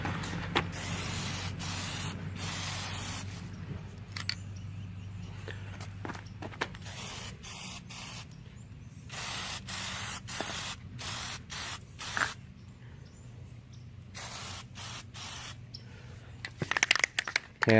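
A spray can hisses in repeated short bursts of varying length, separated by quiet gaps and faint handling noises, close and fairly loud, with no talking.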